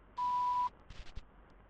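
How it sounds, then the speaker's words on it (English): A single steady electronic answering-machine beep from a tape recording sounds for about half a second, clear and alone, followed by faint clicks and tape noise. "Please leave your name and phone number after the beep."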